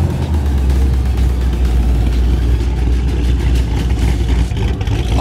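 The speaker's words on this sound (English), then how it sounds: "All the cars are extra loud today." A powerful sports car engine rumbles loudly at idle with a deep, throaty tone and slight revving, close by and steady throughout, at a cars and coffee meet.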